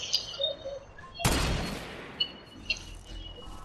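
A sniper rifle shot cracks loudly in a VR shooter game, a single sharp blast with a long decaying tail, followed by a couple of fainter distant shots and ambient game noise.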